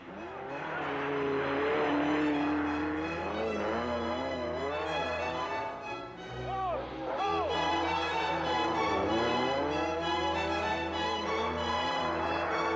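Ford Escort rally cars race flat out on a special stage in Knowsley Park near Liverpool, engines roaring loud and close with rising and falling revs, a brief dip midway, then the howl sweeping back at full volume.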